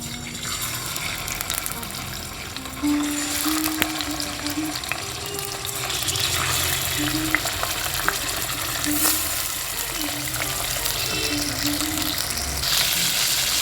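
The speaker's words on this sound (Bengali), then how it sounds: "তেলটা গরম হয়ে গেছে, মাছগুলো একটা একটা করে দিয়ে দেবো।" Pieces of katla fish fry in hot oil in a pan, giving a loud, continuous crackling sizzle that swells slightly as more fish goes in, with faint scraping and a low steady hum beneath.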